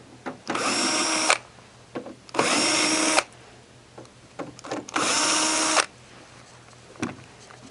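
A power drill backs screws out of a Santa Fe Compact2 dehumidifier cabinet, three loud whirring bursts of about a second each with short gaps of handling clicks between them, close up.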